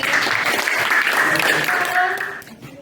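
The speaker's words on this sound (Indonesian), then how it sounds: "Jadi tepuk tangan lagi" Schoolchildren in an Indonesian classroom clap hands together in a loud, dense burst that carries over a sustained voiced tone, then thins and fades out toward the end.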